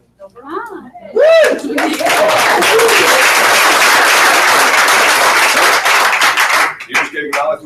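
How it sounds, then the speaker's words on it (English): Audience clapping at a sales meeting: after a few brief vocal whoops, loud close applause from a roomful of people bursts in and carries on steadily for several seconds before tapering off into scattered claps. "You just gave acknowledgement and clap."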